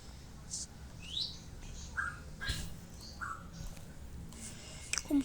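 A pet bird chirps in short, scattered high tweets and rising calls, several spaced notes over a quiet indoor background.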